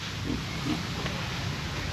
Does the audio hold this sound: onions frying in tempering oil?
no